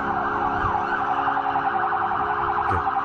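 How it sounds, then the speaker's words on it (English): Several police cars and police vans sound their sirens on a city street, a loud continuous wailing tone sweeping up and down over steady traffic rumble, with no talk. "Some noisy police cars and police vans."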